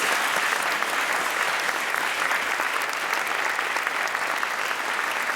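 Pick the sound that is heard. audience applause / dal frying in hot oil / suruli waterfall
audience applause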